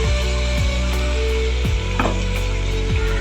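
Turmeric, green chili and ginger paste frying in oil for a prawn dish, a steady close sizzle running throughout with a few soft knocks and scrapes mixed in.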